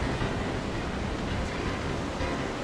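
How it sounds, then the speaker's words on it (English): Stormy ocean waves in a video game, a dense continuous roar of crashing surf and wind, loud and steady with no voices. "Watch out! The big waves!"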